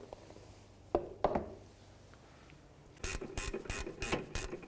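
Gear wrench ratcheting on rear brake caliper bolts of a 2010-2015 Lexus RX350, a few isolated clicks early, then a fast, loud run of repeated ratchet clicks near the end.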